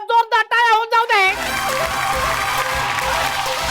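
Audience applauding five women contestants on a Marathi television game show, broad steady clapping from a studio crowd that follows a short burst of voices and carries on to the end.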